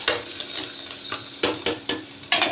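Ghee and oil being stirred in a pan while sautéing for biryani rice, with a series of close scraping stirs and light sizzling heard alone, without talk.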